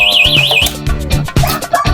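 An electric motorcycle's anti-theft alarm blares loudly, a warbling siren tone followed by rapid chirping and beeping bursts, close and alone.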